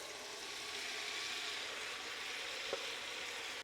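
A tomatillo, pepper, onion and garlic mixture sizzling as it goes into a pot of chile verde with pork, a faint, even hiss of frying that holds steady before cutting off abruptly, with one small clink.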